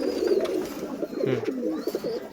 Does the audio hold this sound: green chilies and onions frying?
no